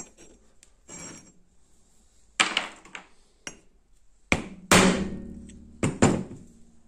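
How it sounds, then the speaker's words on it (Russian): Small hammer tapping a broken needle file used as a punch, several sharp metallic knocks at irregular intervals, close and loud with quiet gaps between strikes. "Давайте при помощи молоточка"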